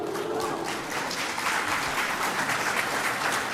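Dense, sustained applause from a convention audience at a LEGO Star Wars collecting talk, loud and even throughout the few seconds without pause.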